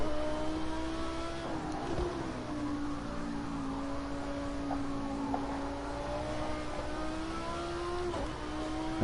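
A GT3 race car at the Nürburgring in Project Cars 2 drones steadily at high revs, its engine pitch dipping and recovering through a chicane with brief shifts, heard from the cockpit and fairly quiet.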